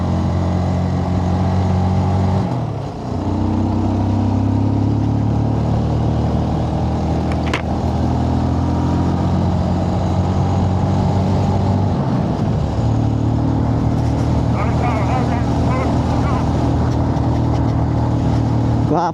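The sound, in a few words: motorcycle engine revving on ride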